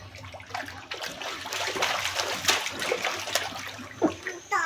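A child splashes and slaps bathwater in a tub, a busy run of wet splatters and trickles with a couple of sharper splashes near the end; an adult talks lightly in the background.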